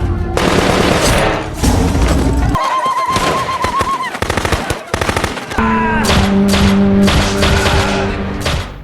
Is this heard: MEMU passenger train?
no